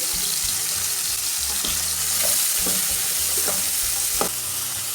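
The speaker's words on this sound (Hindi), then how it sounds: "प्याज और मिर्चों को डाल के 1-2 मिनट तक भून लेना।" Onions and green chilies sauté in a pan with a steady close sizzle, broken by intermittent scraping and clinks as a spatula stirs them.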